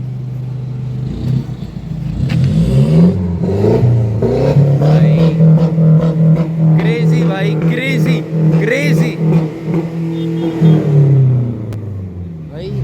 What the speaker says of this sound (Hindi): हम बाहर जाते हैं एक बार इसकी एग्जॉस्ट की आवाज़ सुनते हैं भाई